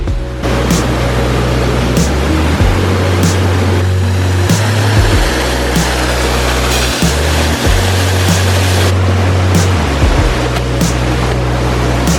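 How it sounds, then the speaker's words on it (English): A large, powerful waterfall roars as a steady, dense rush of falling water, loud and continuous throughout with deep low rumbling underneath and no talk. "We have just made it to the waterfall."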